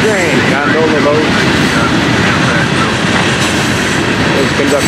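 A freight train of gondola cars loaded with cement, rock and sand rolls steadily past close by, a continuous broadband rumble and rail noise throughout, with faint squealing tones early on.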